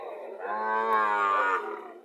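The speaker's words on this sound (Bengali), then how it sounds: "গরু দেখার মতো গরু" A single Friesian dairy cow lets out a long, loud moo lasting about two seconds, close by and clear against a quiet background.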